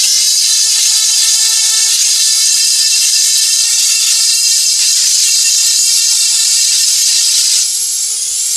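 A Dremel rotary tool carves away wood in a high, loud whine that holds steady for several seconds, with the pitch shifting slightly as the bit bites, then easing near the end; no one speaks.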